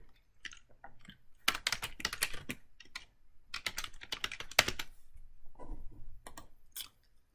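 Steady typing on a computer keyboard while writing code, with irregular bursts of clicking keys and short pauses, fairly close and quiet with no talking.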